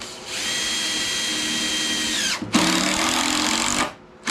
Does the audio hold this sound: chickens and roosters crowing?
no